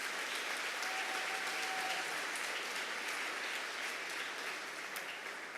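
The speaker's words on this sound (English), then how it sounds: "you should give a round of applause to all the folks who came before me" Warm, steady applause from a PechaKucha event audience in San Antonio, many hands clapping in a continuous wash that slowly thins toward the end.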